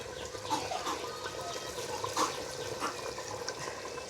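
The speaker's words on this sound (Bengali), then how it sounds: "সিদ্ধ করার জন্য পরিমাণ মতো জল দিয়ে দিছি" Water pours steadily into a pot of braised mutton for biryani, a continuous soft splashing stream with faint gurgles, fairly quiet and heard on its own.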